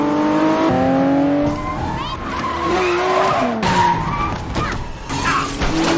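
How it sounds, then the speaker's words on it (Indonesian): Bulletproof cars in a film chase skid and squeal their tyres, with engines revving in loud overlapping bursts and a few sharp impacts, under intermittent voices. "mereka langsung diikuti oleh 3 mobil yang anti peluru"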